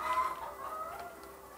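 Chickens cluck on a fertile-egg laying farm in Gyeongju, South Korea, a steady low chatter of hens that runs through the whole moment without pause.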